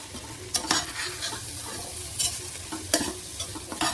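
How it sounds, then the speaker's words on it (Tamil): Chickpeas and masala being stir-fried in a pan, a continuous close sizzle with regular scraping stirs and occasional clacks of the spatula, no one talking. "நல்லா மசாலா சுண்டல் கூட நல்லா சேர்ந்து வதங்குற மாதிரி வதக்கி விட்டுருங்க"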